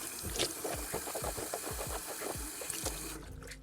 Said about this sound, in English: you can rinse again with some water.